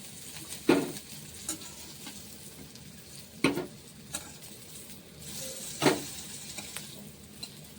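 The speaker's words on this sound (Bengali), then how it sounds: "হালকা পরিমাণে শুটকি ফ্রাই করে নিচ্ছি" Dried fish (shutki) frying in a little oil, a low, even sizzle with occasional sharp scrapes and stirs of a spatula against the pan spread over several seconds, no voices.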